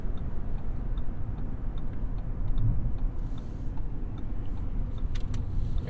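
A 2022 Audi SQ7 with a V8 engine accelerates under throttle, its steady low rumble and road noise sitting close and continuous inside the cabin, with faint ticking clicks along the way.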